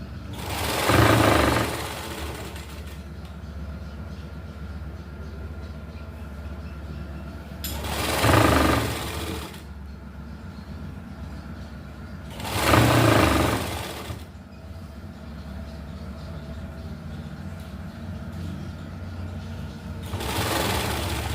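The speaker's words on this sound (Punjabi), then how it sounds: "ਹੁਣ ਇਹੋ ਹੀ ਪੱਟੀ ਇੱਧਰ ਲਗਾ ਲੈਣੀ ਆਪਾਂ ਬਿਲਕੁਲ ਤੇ ਉੱਤੇ ਸਲਾਈ ਲਗਾਣੀ ਹੈ" A sewing machine stitches a fabric strip onto a garment neckline, running in three short loud bursts separated by quieter pauses over a steady low hum.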